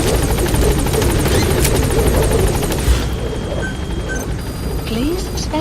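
Helicopter in the Metal Gear Solid V video game, loud rapid rotor chopping at first that gives way to a steadier, softer engine hum, with some voice over it.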